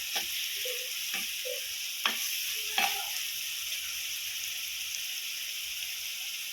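Coriander and mint leaves sautéing in sesame oil for a Tamil chicken kulambu give a steady close sizzle, broken by a few sharp scrapes and clicks of a spoon stirring the pan, with no talking.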